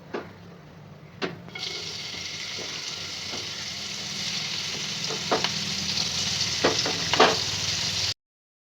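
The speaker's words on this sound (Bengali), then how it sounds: "চিংড়ি মাছগুলো ভেজে নেব।" Prawns sizzle steadily in hot white oil in a home kitchen pan, a dense continuous frying hiss with occasional soft pops and stirring taps, close and unbroken for several seconds.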